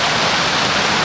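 Steady rain falling outdoors around a small family house with young pineapple plants, a dense continuous hiss that fills the whole moment without any voices.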